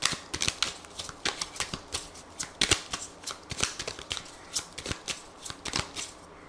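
A deck of Lenormand oracle cards is shuffled by hand, giving rapid, close riffling and flicking bursts that come in an uneven rhythm across the whole stretch.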